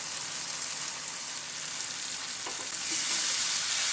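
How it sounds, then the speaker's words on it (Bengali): Chopped goat liver frying in spices in a pan for mete chorchori, a loud steady hiss of sizzling that swells louder toward the end. "এবার আমি এর মধ্যে দিয়ে দেব কেটে রাখা মেটেগুলো।"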